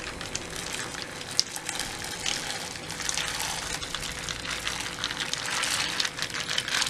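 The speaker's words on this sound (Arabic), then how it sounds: "وهنحط القمح في المية." Soaked wheat pouring into a pot of hot sugared water over medium heat, making a steady, continuous rushing and splashing wash of sound that builds slightly toward the end, close by and with no talk.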